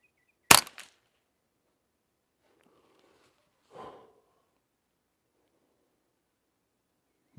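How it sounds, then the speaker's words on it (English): A Volquartsen .22 rifle fired from a standing position gives one sharp, loud crack near the start. A fainter burst follows in the middle, and another loud onset is cut off at the very end, with quiet between them. "I'm shooting at that right target"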